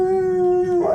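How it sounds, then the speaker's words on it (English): A dog lets out a single long, steady howl that holds one pitch, close and loud, then breaks upward at the very end; no speech. "Who's a beautiful dog?"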